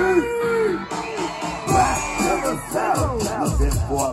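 Festival crowd at the Ocoee Music Festival screaming and whooping in response to a performer, loud and sustained surges of yelling with a brief lull in between.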